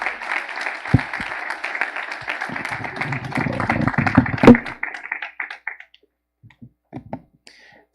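Church congregation applauding after a sermon, a dense burst of clapping for about five seconds that swells near the end and then breaks into a few scattered claps before silence.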